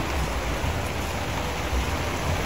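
Heavy rain pours down in a steady, dense hiss that never lets up, fairly loud and unbroken, with no voices over it.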